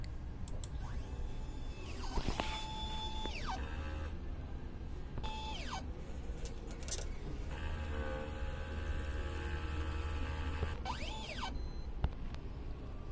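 An inkjet printer runs its head cleaning cycle, giving a steady mechanical whir with rising and falling motor whines and clicks, continuous and fairly faint, with no talking.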